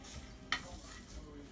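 Food sizzling and frying in a pan on the stove, a faint, steady crackle with one brief stirring scrape partway through.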